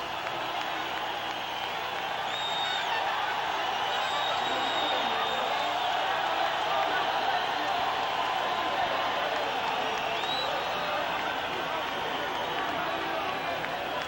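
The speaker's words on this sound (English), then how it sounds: "And the crowd erupts." A large crowd at a boxing match roars and cheers continuously in a dense wash of noise, with scattered whistles rising above it and an announcer talking over the top.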